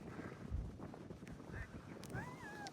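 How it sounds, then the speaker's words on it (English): Strong wind buffets the microphone atop a mountain at Spruce Knob, West Virginia, a steady low roar with gusts throughout and a faint whistling tone near the end. "I'm sure you can hear it through the mic and the video. It is real windy up here."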